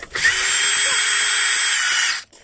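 A power tool, likely a drill or driver rather than a hand ratchet, runs steadily at close range for about two seconds while the control panel of a Kwikee RV step control assembly is being removed.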